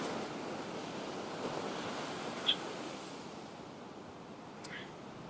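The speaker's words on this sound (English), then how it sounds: "So sitting under here, looking at the waves, just beautiful." Ocean surf washing steadily onto a shore, a continuous broad roar of breaking waves with some wind buffeting the microphone, heard on its own with no talking.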